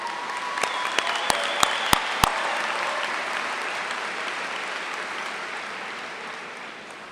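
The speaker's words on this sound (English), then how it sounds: "ask Professor Sen to stand once again so we can applaud his artistic ability" Graduation ceremony audience applauding in a large hall, a dense steady wash of clapping with a few sharp close claps near the start, gradually fading over several seconds with no talk.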